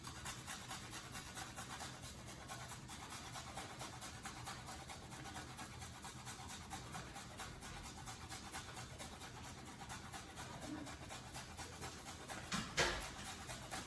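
Ginger root scraped against a cheese grater for wonton soup filling, a quiet, continuous rasping rub repeated in quick strokes, close but faint, with a brief louder knock near the end.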